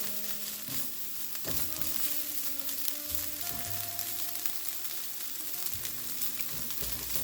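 Chicken and broccoli stir-fry sizzles in a hot pan while being stirred, a steady crackling fry broken by scraping strokes and soft knocks of the utensil against the pan, close and moderately loud.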